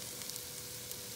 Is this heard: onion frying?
yes